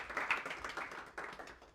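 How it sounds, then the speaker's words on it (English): Scattered audience clapping at a tech talk welcoming a speaker, fairly quiet and uneven, with a few distinct claps rising and fading over a short stretch. "great applause for Rosaria"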